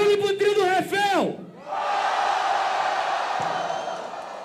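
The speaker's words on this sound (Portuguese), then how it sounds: "Barulho pro trio do Refel" At a Brazilian rap battle semifinal, a single loud shout rings out, then a dense crowd roars, cheering and yelling for one trio, the sustained noise slowly fading.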